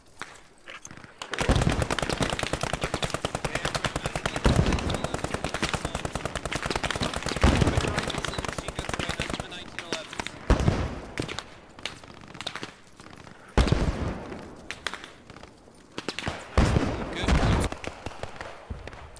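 An MG42 machine gun lays down suppressive fire in the video game Post Scriptum. Long, rapid bursts of automatic fire repeat, loud and near, broken by short gaps and scattered single shots.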